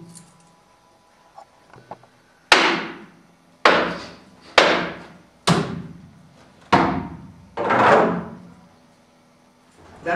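Sharp hammer blows from renovation construction work ring out one at a time, about six heavy strikes spaced a second or so apart, each decaying briefly, after a few faint taps.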